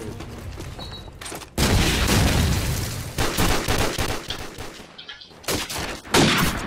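Dense gunfire from the Call of Duty 4 video game, loud bursts and rapid volleys of shots crackling almost continuously for several seconds, with brief pauses between flurries.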